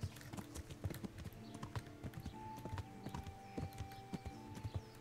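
Hooves of a horse in the video game Kingdom Come: Deliverance clip-clop in a steady, fast trotting rhythm, close and continuous over a faint game ambience, with no voices.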